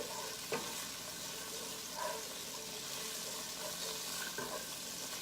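Garlic sizzles and fries gently in a pan, a steady soft crackle heard close and fairly quiet, with occasional stirring scrapes and no talking.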